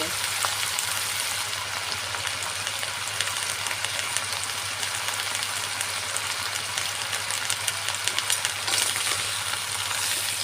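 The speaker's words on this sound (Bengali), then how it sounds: "আমি এই যে পেঁয়াজ রসুনের সাথে ডাউলের সাথে কলাইয়ের ডাউলের সাথে প্রেশারটা কষায় নেবো" Kalai (black gram) dal being sautéed with onion, garlic, green chilli and coriander powder for a puishak dish, giving a steady, dense sizzle with a low hum throughout and no talking.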